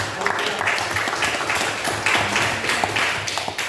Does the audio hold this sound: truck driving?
no